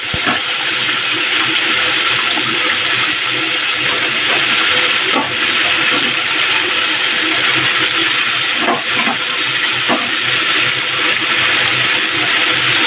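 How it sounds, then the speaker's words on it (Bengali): Chicken goes into a half-cooked spice masala for ghugni and sizzles loudly in the pan, a close, steady, hissing fry with faint clinks, with no talking. "এবার আমি এই যে চিকেনটা দিয়ে দেবো।"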